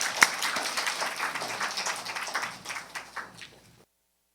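Brief burst of congregational applause in a church, many hands clapping at close range, fading out after a few seconds into silence.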